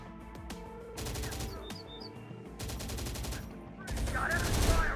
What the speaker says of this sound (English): Got enemy fire on our position